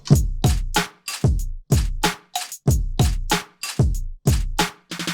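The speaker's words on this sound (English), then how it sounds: "basic drum beat" A plain drum beat repeats in a steady loop of punchy kicks and snares, clear and close with nothing else.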